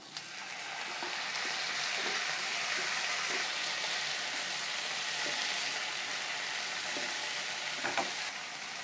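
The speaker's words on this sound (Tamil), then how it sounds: "இப்போ இந்த தக்காளி வதங்கிட்டு இருக்கும்போதே" Chopped tomatoes and ginger sautéing in a pan for a chapati side dish, giving a steady, moderately loud sizzle and frying hiss throughout, with occasional soft clicks of stirring.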